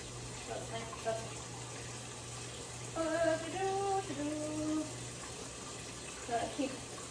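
Cold water runs from a kitchen tap in a low, steady stream, with quiet voices and a few brief clatters over it.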